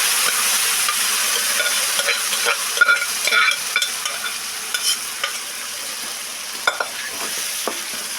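Mixed greens curry being tempered with curry leaves in a pan: a constant sizzle of frying with repeated scraping stirs and small pops scattered throughout, close and loud, with no speech.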